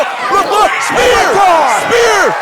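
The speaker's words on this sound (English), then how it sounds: "Spear from Miller!" Loud arena crowd at a live wrestling match (Gunnar Miller vs CT Keys) roars and shouts in rising, swelling cheers after a spear tackle lands, with no clear single impact standing out from the continuous crowd noise.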